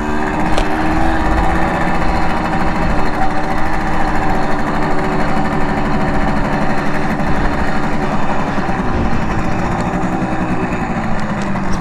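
A Simson moped engine runs steadily and close by, a continuous buzzing drone that holds at an even level for the whole stretch with no voices over it.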